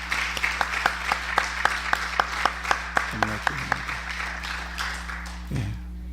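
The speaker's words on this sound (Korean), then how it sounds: "우리 박수합시다." A Korean church congregation claps in steady unison rhythm during a Sunday service. The sharp, evenly spaced claps fill a room with a low hum, then fade as brief vocal sounds come in.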